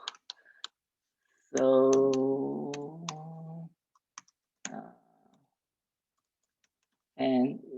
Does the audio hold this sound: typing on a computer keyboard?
yes